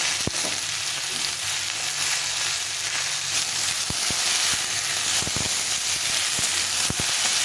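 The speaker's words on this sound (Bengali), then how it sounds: "এখন ঝিঙেটা একটু ভালো করে ভেজে নিতে হবে।" Ridge gourd frying in a pan, giving a steady, close sizzle with a bright hiss throughout, broken by scattered clicks and taps from stirring.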